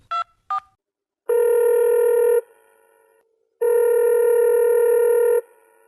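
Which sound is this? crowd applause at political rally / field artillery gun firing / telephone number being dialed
telephone number being dialed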